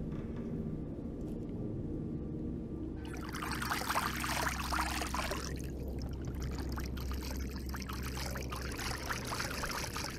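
Water running under a bridge in the video game Into the Radius, a steady trickling stream with a brighter splashing stretch midway, heard alone.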